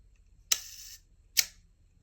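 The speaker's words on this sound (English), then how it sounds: "And here is of course your shutter button right here" Two crisp mechanical clicks from a Yashica 44 camera's shutter button, each a sharp snap with a brief metallic tail, close up and spaced almost a second apart in quiet surroundings.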